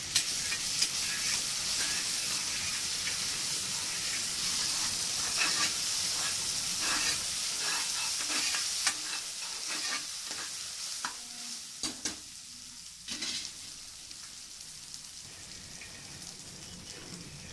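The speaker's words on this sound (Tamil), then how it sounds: "இஞ்சி பூண்டு விழுது 3 ஸ்பூன் எடுத்து வச்சுருக்கோம்ல, அதையும் வந்து எண்ணெயில் போட்டு நல்லா அந்த பச்சை வாசனை போகிற வரைக்கும் நம்ம வதக்கணும்." Ginger garlic paste sizzles and fries in hot oil in a pan for a mutton kulambu, with a steady loud hiss and occasional stirring scrapes, thinning out toward the end.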